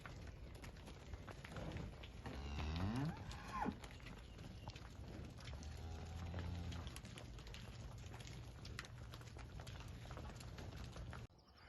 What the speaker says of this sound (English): These girls are the dry cows.